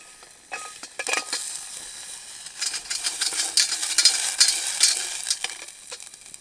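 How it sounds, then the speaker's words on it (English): Chopped onion frying in a stainless steel pot on a camp stove outdoors, a close crackling sizzle with scraping stir strokes, building after a quiet start and wavering in intensity. "Just cut an onion up. Get that going."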